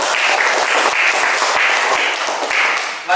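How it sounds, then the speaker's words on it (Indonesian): A classroom applauds a student group, with steady, loud clapping from many hands that rolls on for about three seconds before tapering slightly at the end. "Kita beri aplaus kepada kelompok"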